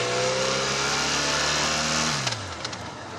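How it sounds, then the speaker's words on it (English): A 2012 BMW F800ST touring motorcycle's exhaust note while riding, a steady flat droning engine hum that drops in pitch as the revs fall toward the end, close with wind noise throughout. "The exhaust note is not entirely engaging or thrilling"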